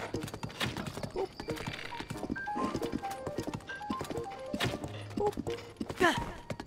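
Repeated clip-clop of horse hooves trotting at a steady rhythm in The Legend of Zelda: Tears of the Kingdom, with scattered game chimes and thuds over a soft background.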